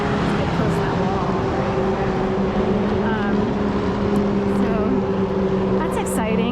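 Wave runners race on the Schuylkill River, a loud continuous engine drone with a steady hum and rising whine, heard close from the riverbank.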